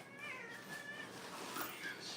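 A house cat meows in a few drawn-out, wavering calls, fairly close and moderate in volume over faint room noise.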